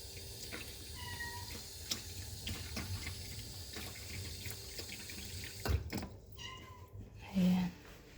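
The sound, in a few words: kittens meowing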